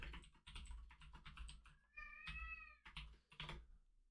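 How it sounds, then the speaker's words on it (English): A house cat meows clearly in the middle, a drawn-out tonal call standing out against a steady patter of computer keyboard typing that runs through the whole stretch. "You guys have been hearing a meow for the last little bit."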